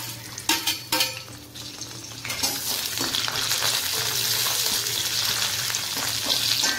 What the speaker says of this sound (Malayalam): അപ്പോൾ നമുക്ക് കപ്പ ബിരിയാണിക്കുള്ള തേങ്ങയെക്കൊത്ത് വറുത്തെടുക്കാം.